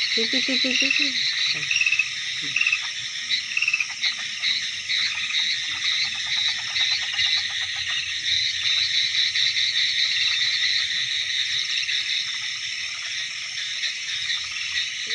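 Frogs croak in quick rattling bursts near the start, while a dense chorus of crickets and insects trills loudly and continuously throughout.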